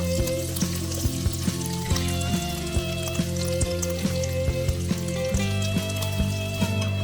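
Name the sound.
khoya roasting in warm ghee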